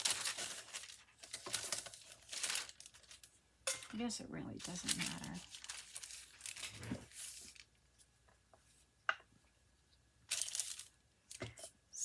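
Parchment paper crinkling and rustling while crafting a ring-bound journal with a glue stick, in intermittent close bursts of crisp rustle and crackle, with a person talking quietly between the noises.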